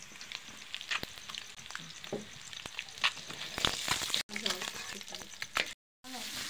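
Onion, chili and ginger sizzle in a pan, with a close crackling fry punctuated by stirring clicks and scrapes, and a couple of short gaps where the sound drops away.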